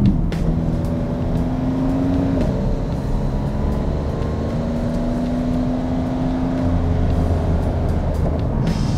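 An Aston Martin DBX luxury SUV on the move, with a steady low drone of engine and road noise filling the cabin, faint tonal whines rising and shifting as speed changes, no voices.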